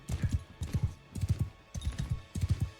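Horse hooves gallop in Mount and Blade 2: Bannerlord, a steady, close clip-clop with groups of three quick thuds repeating about every half second, with no other sound in the clip.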